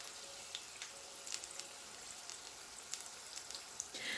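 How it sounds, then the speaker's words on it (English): Egg rolls frying in oil over a medium-low flame, giving a steady, quiet sizzle with scattered small pops and crackles throughout. "let's see how long this is going to take to fry it"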